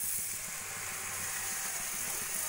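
Beaten sour yogurt being stirred into spice masala that has been frying for several minutes in a pan for a vegetarian paneer curry. It gives a steady, close, dense sizzle with a constant hiss throughout.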